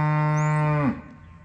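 A single cow moos near the gate, one loud sustained low bellow lasting under a second before fading to quiet.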